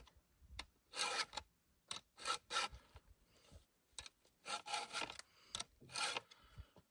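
Dull chainsaw chain being sharpened with a hand file, giving a series of rasping strokes in uneven bursts, close and fairly quiet, with short pauses between passes.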